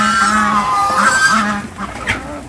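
Geese honk repeatedly in a loud, close cluster of calls on a small farm where chickens, ducks and geese are raised together, with a busy layered bird chorus throughout.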